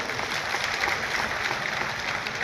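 Audience at an outdoor tented Maharana Pratap Jayanti gathering gives steady, continuous clapping for the organisers, a dense even wash of applause with no pauses throughout.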